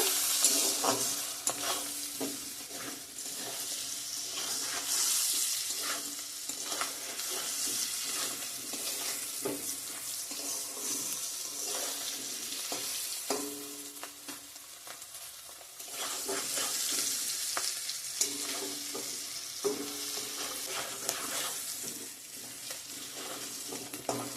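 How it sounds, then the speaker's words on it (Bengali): Onions and dried fish frying in a pan while being stirred, with a dense ongoing sizzle broken by repeated scraping and clacking strokes of a spoon and no speech. "পেঁয়াজ ভালো করে ভাজা হয়ে গেছে"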